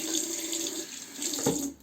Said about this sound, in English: let's turn the water down.